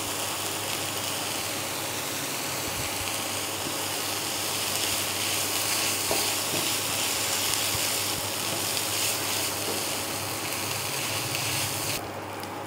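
Crunch roll filling stirred and frying in a pan, giving a steady, dense sizzle with continuous broadband crackle and faint scraping, close and unbroken throughout.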